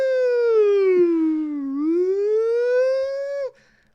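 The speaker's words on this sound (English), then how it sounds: "That's a siren, Angelo." A loud, close siren wails in a single long tone that falls, then rises again, before cutting off abruptly, leaving near silence.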